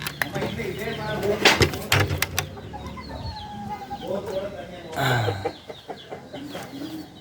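Chickens cluck and squawk nearby in short, scattered bursts in a village, with a voice talking briefly among them.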